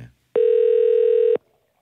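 A single steady telephone ringback tone sounds for about one second, loud and close, while a call is placed to a listener on a Korean radio show, with brief silence on either side.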